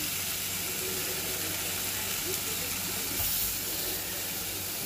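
Applewood smoked bacon frying in an electric skillet, giving a steady, close sizzling hiss with faint crackles throughout and no voices.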